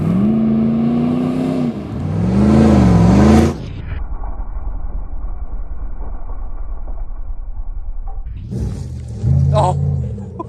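A 5.2-liter V8 in a vintage 1990s camper van rumbles steadily while driving, with two louder bursts of revving near the start and end, and people talking over the engine.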